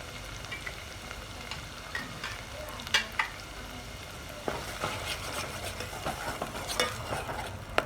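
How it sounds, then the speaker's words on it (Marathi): Ground masala paste of ginger and garlic frying in hot oil for a chicken dish, a steady close sizzle with repeated scraping and stirring strokes and clicks of a spoon against the pan. "मिक्सरमधून काढलेला मसाला तेलामध्ये तळत आहोत"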